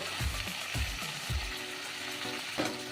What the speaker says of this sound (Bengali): এটাও অল্প ভেজে নেব